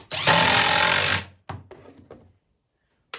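A power drill drives self-starting screws into cherry wood for a four-foot glider: one loud, buzzing run of about a second, followed by three short trigger bursts that fade out.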